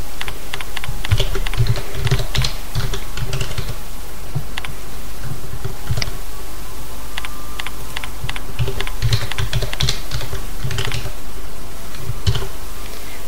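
A master password is typed on a computer keyboard in quick, uneven bursts of close, crisp key clicks that continue throughout, with short gaps between runs.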